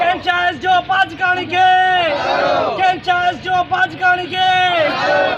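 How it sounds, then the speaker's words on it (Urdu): Protesters at a street demonstration over long electricity outages in Khairpur Nathan Shah chant slogans loudly in unison, with repeated rhythmic shouted phrases from a close, crowded group of voices. "مظاہرین نے ایس ڈی او وابڈہ اسرار باجکانی خلاف شدید نعرے بازی کی"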